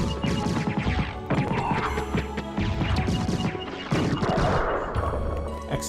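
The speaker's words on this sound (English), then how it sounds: "Explosions." Repeated crashing explosions burst loudly in Castlevania: Symphony of the Night, sounding in dense overlapping volleys with rattling debris, alongside game music and effects.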